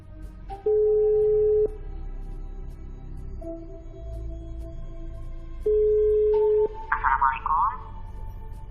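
Several steady electronic tones from a mobile phone keypad being dialed sound in long beeps at differing pitches, followed by a brief warbling chirp.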